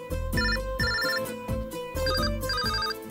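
A mobile phone ringtone plays loud and close for an incoming call, a repeating melodic electronic tune in two bursts of phrases, with no talking over it.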